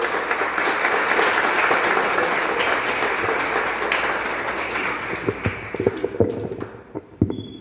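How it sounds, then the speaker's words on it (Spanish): Loud, sustained applause from a conference audience, holding steady before thinning into scattered individual claps that fade out at the end. "les pido un fuerte aplauso aquí para nuestro compañero y para dar inicio"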